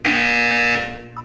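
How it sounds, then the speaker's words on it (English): Portal 2 test chamber buzzer in the video game, one loud sustained electronic blare lasting under a second, then fading quickly, with no talking over it. "You will hear a buzzer. When you hear the buzzer,"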